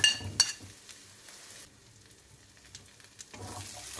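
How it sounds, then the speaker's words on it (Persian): Onion, potato and chopped quince are sautéed together in a pan for a quick stew, a soft steady sizzle with stirring scrapes, a brief sharp clink near the start and a louder frying burst at the end. "پیاز رو دوباره هم زدم و بعد سیب زمینی و به خرد شده رو به پیازا اضافه کردم"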